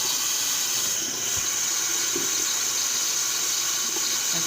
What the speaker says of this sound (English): I'm going to turn it up loud to get the hot water flowing.